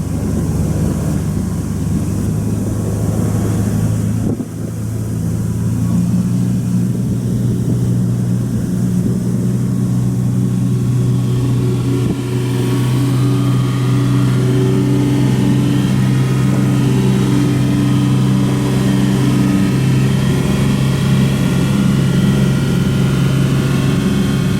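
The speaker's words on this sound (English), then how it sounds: "Now we're gonna do our first full power test on the engine." A boat engine runs at full power near 3,200 RPM in a first full-throttle test, a loud continuous low drone that builds and settles into steady harmonic tones with no talk.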